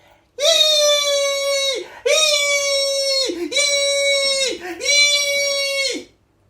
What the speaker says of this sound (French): Ainsi que des cris infiniment aigus.